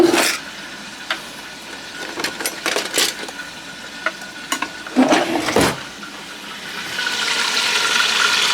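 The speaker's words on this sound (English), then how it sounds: "So they're searing. Browning, searing, get them brown on both sides." Oxtail sears and browns in a pot for Sunday dinner, giving a steady broad sizzle broken by louder crackling bursts and spoon scrapes, with the frying hiss swelling toward the end and no talking.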